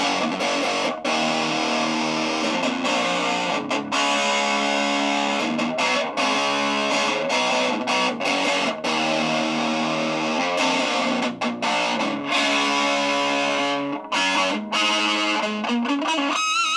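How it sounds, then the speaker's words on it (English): An electric guitar played through a $49 practice amp with distortion, sustained overdriven chords and riffs ringing out loudly and continuously, with no talking. "this is about, I don't know, a quarter of the way of tone here with some distortion sounds"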